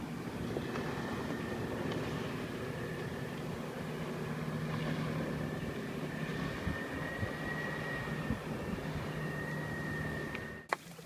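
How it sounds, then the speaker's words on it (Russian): Boat motors on Lake Ladoga near an island, a steady continuous engine drone with a faint whine, heard from a distance and holding throughout, with a short sharp knock near the end. "Конечно, звуки моторов так напрягают."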